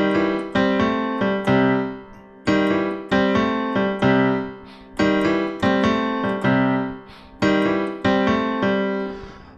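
A slowed intro riff variation of a song, played as short bursts of bright chord stabs separated by brief pauses, close and clear with no voices.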